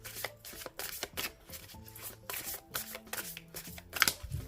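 Oracle cards being shuffled by hand during a divination reading, a run of repeated papery riffles and soft slaps that is close and fairly quiet, with no talking.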